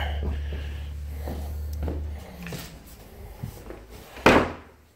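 A newly installed interior door in a farmhouse laundry area is swung and handled with a few soft creaks and knocks, then shut with one sharp, close slam.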